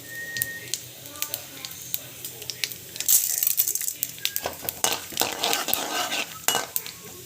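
Mustard seeds and cumin crackling and sizzling in hot oil, with dense popping and clinks of a pan and spoon being stirred up close, while someone talks.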